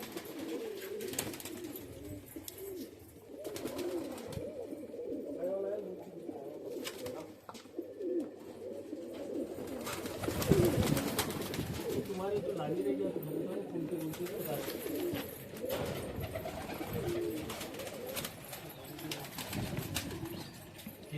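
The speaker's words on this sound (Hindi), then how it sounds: "ये देखो कबूतर।" Pigeons coo in a loft of old-bloodline birds, soft rolling calls repeating over a busy background while someone talks through most of the stretch.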